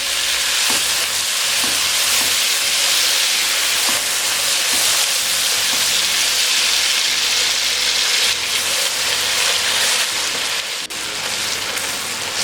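Tomatoes and green chilies cook with fried onions for a mutton chop gravy, giving a loud, dense, continuous sizzle close up, with light stirring knocks scattered through and no voices.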